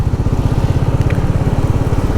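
Royal Enfield Meteor 350 motorcycle being ridden, a loud close engine thump with an even rapid low beat and light clatter running steadily, no talking.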